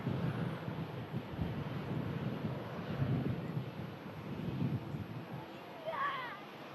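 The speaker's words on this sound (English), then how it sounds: "That wind really seems to be picking up." Wind gusts buffet an outdoor microphone at Manchester Airport, a steady broadband rumble and rush that swells and eases, with faint distant sounds near the end.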